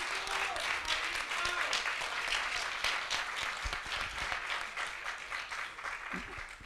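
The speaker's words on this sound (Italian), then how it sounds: "Un applauso al regista." Audience applause for a film director at the Music Day event in Rome, a steady burst of many hands clapping from a crowd, moderately loud and fading slightly toward the end, with faint voices underneath.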